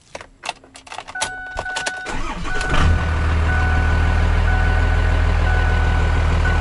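Ford F250 with a swapped Cummins diesel cranking briefly with a clicking starter, then catching and settling into a loud, steady, rumbling idle close by, with no talking.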